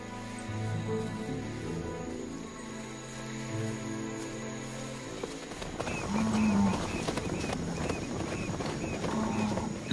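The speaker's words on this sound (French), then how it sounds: "Les vaches sont nerveuses." Nervous cattle low several times in the South American countryside, deep drawn-out moos at moderate distance over a quiet outdoor background, with a calm musical bed early on.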